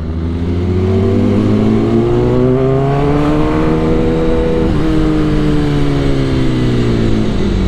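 A Kawasaki Ninja ZX10R motorcycle accelerating hard in heavy traffic near Lagoa Santa, its loud engine note climbing steadily in pitch, dipping briefly at a gear change, then climbing again, close and continuous throughout.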